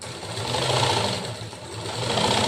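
A sewing machine stitching a lined blouse, a rapid continuous mechanical whir that swells and eases slightly, heard close and alone.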